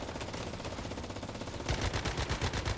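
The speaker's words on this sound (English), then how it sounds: "I am mag dumping into this guy, and his health bar is not moving." Rapid automatic gunfire from a mag dump into an enemy in the Once Human video game, a steady stream of close, sharp shots that grows louder and heavier partway through.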